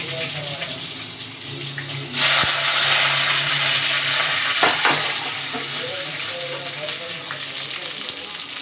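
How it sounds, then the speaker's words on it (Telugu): Onions frying in oil in a kadai give a steady close sizzle, with a burst of louder crackling partway through as more goes into the pan, and faint stirring clatter throughout. "బాండీ పెట్టుకొని ఆయిల్ వేసుకున్నానండి. ఆనియన్స్ వేసుకొని"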